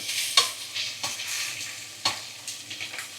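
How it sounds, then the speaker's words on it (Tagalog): Pork fat sautés in a pan with a lively sizzle, broken by several scraping stirs that come as distinct louder strokes over the constant frying crackle. "Gigisa lang natin tong mga taba-taba."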